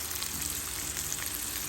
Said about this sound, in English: So I'm just going to pour my potatoes in here.